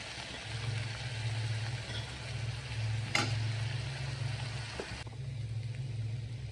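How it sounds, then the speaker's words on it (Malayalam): Chilli, coriander, garam masala, turmeric and pepper powders fry in a pan for a chicken liver fry, giving a steady close sizzle with one sharp stirring scrape midway. "ആഡ് ചെയ്ത് പച്ചമണം പോകുന്നത് വരെ മൂപ്പിച്ചെടുക്കുക"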